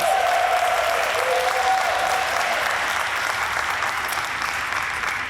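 Steady, dense applause rolls through a crowd at an Earth Day press conference, many hands clapping at an even level throughout, with a brief whistle-like tone riding on top early on.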